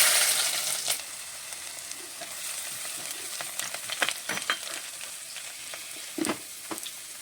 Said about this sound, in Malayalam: ഇഞ്ചി ഇട്ട് കൊടുക്കാം.